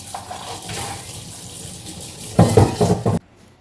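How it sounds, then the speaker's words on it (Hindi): Dishes are being washed under a running kitchen tap, with a steady stream of water that swells into louder splashing and clattering of pots and utensils before cutting off sharply. "ये थोड़े बर्तन हो गए थे थोड़े बहुत, तो मैंने कहा ये भी साफ़ कर देती हूँ तब तक"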